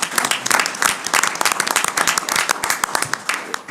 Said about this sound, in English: can we please give a round of applause to Shayna for 9 years of recovery?